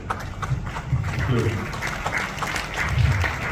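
Seminar audience breaks into loud applause, a dense continuous clapping wash with a deep low rumble underneath, sustained throughout without a break.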